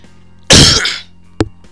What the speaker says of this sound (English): Got a bit of a cough at the moment.